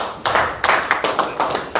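Applause at a live political party event welcoming a new member: a crowd clapping in several sharp, rhythmic bursts that start and stop, loud and close, with no speech over it.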